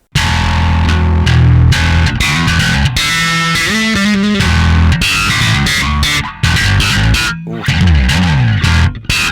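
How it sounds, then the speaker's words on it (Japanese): Bass guitar played through a JACKAL MIDNIGHT high-gain bass distortion pedal, which also has a preamp mode: a loud, heavily saturated, gritty riff that plays continuously with short gaps between phrases and no voices. "ディストーションかなり歪みますので、ディストーションに分類されると思うんですけれども"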